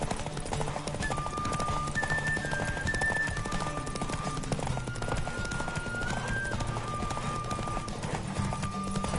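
Rapid hoofbeats of a galloping horse racing in The Witcher 3 drum on without a break, close and steady, with game music playing underneath.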